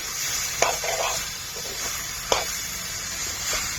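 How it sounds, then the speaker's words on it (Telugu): Chicken with ginger garlic paste frying in a pot gives a continuous hiss, broken by two sharp spoon knocks and a few soft stirring scrapes, close by. "అల్లం వెల్లుల్లి పేస్ట్ వేసుకుని బాగా తిప్పుకుందాం"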